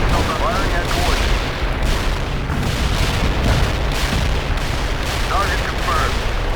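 Artillery units in the World in Conflict video game fire at target coordinates, a dense continuous rumble of booms and blasts filling the mix, with faint unit voice chatter in places.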